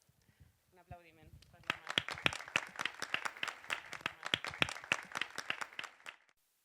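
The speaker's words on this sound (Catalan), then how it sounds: "Un aplaudiment." An audience applauds at a poetry performance, the clapping starting after a brief spoken phrase and building into rhythmic, distinct claps from a fairly small crowd before cutting off.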